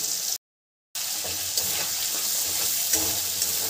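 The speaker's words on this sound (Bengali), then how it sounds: "মশলাটাকে ভালো করে কষিয়ে নেব" Spices with turmeric and salt sizzling in a pan for a leafy taro greens dish, a continuous close frying hiss with light stirring scrapes after a brief silent gap, no talk.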